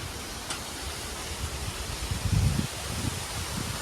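Strong wind blows outdoors during a stormy spell under heavy cloud, a steady broadband rush with low gusty rumbles swelling around the middle, with no talking.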